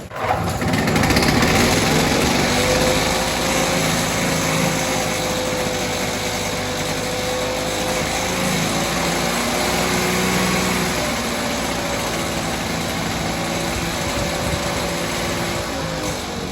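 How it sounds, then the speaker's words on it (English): A Victa two-stroke lawn mower engine fires up and keeps running, a loud, close, buzzing high-revving drone that holds steady throughout. "So turn the fuel tap on, give it a few primes, give it a pump down with the throttle up and back down to the start position, and pull the handle"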